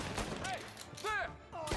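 Gunfire in the Mafia video game crackles as a dense, continuous burst of shots under raised voices shouting over the fight.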